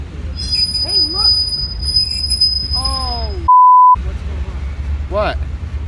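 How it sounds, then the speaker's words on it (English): A passing Burlington Northern local freight train at a rail yard, a low rumble with squealing, rising and falling wheel screeches, a steady high whine and a brief electronic bleep tone, while people talk nearby. "There's a train."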